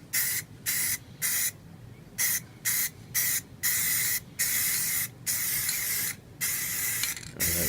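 A spray paint can sprays a coat onto an old worn jewelry box in bursts of loud hiss, about a dozen short and longer sprays separated by brief silences.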